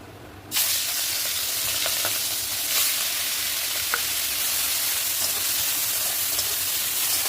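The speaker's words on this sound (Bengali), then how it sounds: "চিংড়ি মাছটা আমি হালকা করে ভেজে নেবো" Shrimp rubbed with salt and turmeric hit hot oil in a wok and break into a loud, steady sizzle after a brief quiet start, holding a dense, even hiss throughout with faint crackles.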